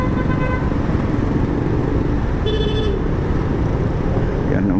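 Busy road traffic with trucks passing, a dense steady roar of engines close by, broken by a short car horn toot midway and a faint squeal near the end.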